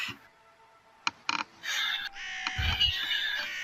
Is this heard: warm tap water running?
no